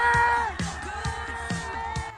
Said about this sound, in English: Moviegoers during a Minecraft movie Friday night yelling at the top of their lungs.